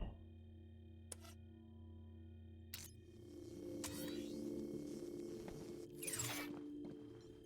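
A printer in the Beyond a Steel Sky video game whirs and ratchets mechanically, with a few sharp clicks early on and then a steadier grinding run with sweeping feed sounds, close and fairly quiet over a low ambient hum.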